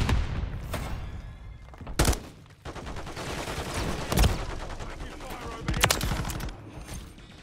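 Gunfire in Call of Duty Modern Warfare III, with loud sharp bursts of shots at irregular intervals over continuous game noise and faint background voices.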